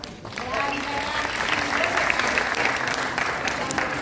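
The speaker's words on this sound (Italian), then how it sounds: "Un unico applauso alla fine." Audience applause at a Lions Club conference held at a school in Sorrento, a steady dense wash of many hands clapping throughout, with faint voices mixed in.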